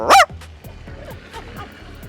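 On an Amsterdam street, a man imitates a dog with one loud, sharp bark-like yelp, followed by quieter low vocal noises and street background.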